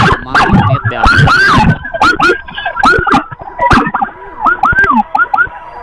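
Wailing ambulance siren during a road escort, rising and falling yelps repeating in quick bursts, loud and close, with traffic noise underneath.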